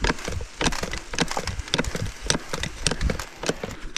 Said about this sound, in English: That's the sound of air coming out of the tire and ice breaking.